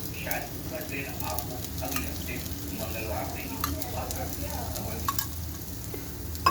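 Potato slices frying in a pan of oil in a Malvani-style potato fry, giving a steady close sizzle with faint scraping and small clinks, a soft voice briefly underneath.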